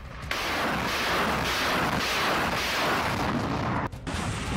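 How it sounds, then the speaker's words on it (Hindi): A Russian rocket launcher fires rockets at the Azovstal steel plant with a continuous, roaring, distant rumble that surges in waves and breaks off briefly near the end. "इस रॉकेट लॉन्चर के जरिए रूसी सैनिकों ने एक के बाद एक कई रॉकेट इस स्टील प्लांट पर दाग दिए"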